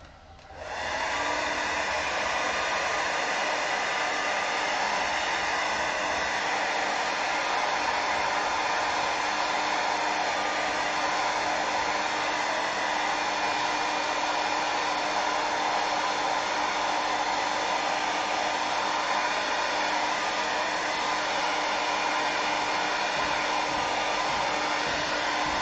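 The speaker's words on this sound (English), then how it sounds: "grab my hairdryer and blast this yet again" A hair dryer switches on and blows steadily at close range onto wet watercolour paint, a loud continuous whirring roar that holds without a break.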